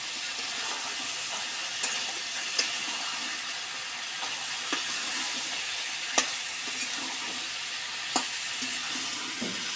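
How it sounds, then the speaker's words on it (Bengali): Spice paste with potato, pointed gourd and taro frying in a pan, a steady broadband sizzle with occasional sharp clinks and scrapes of stirring spaced through the clip, no talk. "আগে ভালোভাবে আমরা মশলার সাথে কষিয়ে নেব।"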